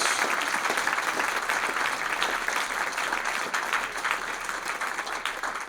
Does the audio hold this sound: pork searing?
no